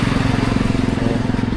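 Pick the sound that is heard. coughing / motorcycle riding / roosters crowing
motorcycle riding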